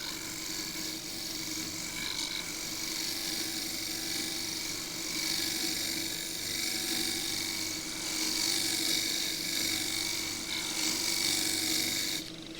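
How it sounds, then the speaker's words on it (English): A tilted tool shear scraping a thin bowl of very green photinia wood spinning on a lathe, a continuous close rasping hiss over the motor's steady hum, swelling and easing as the cut moves. "I'm going to shear scrape up here."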